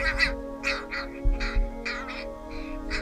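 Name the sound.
young crows calling while being hand fed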